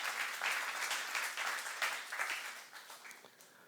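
Congregation applause during a church youth service, steady clapping from a crowd that stays fairly even for about three seconds before gradually thinning and fading near the end.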